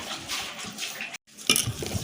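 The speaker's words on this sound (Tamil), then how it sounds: "இதுக்கு வந்து கொஞ்சமாக தண்ணி சேர்த்து நம்ம பிசைஞ்சு எடுத்துக்கலாம்." Water poured into bottle gourd bajji batter in a mixing bowl, a short splashing trickle that breaks off briefly and then resumes with a brighter splash.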